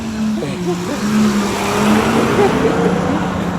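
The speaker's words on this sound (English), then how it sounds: "Look at that big old truck coming my way." A big truck drives past a jogger on a road, a loud steady engine drone with a low humming tone that grows slightly louder midway, while someone talks over it.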